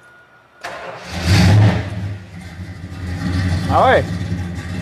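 A car, referred to as a 440, cranks and fires up after a moment of quiet, then settles into a rumbling idle and revs briefly near the end, close and loud, with people talking over it.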